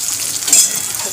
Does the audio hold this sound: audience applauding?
no